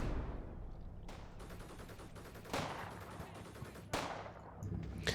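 Bursts of small-arms and machine-gun fire in the Cold War tactical game Combat Mission Cold War, several sharp volleys rattling in quick succession at moderate distance.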